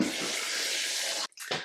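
Water poured into a blender for a smoothie, a steady hissing splash that stops abruptly, followed by a short final gush.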